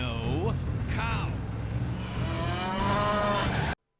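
A cow in the video game Command & Conquer: Renegade gives a few loud, close moos with rising and falling pitch, the last one drawn out before the sound cuts off abruptly.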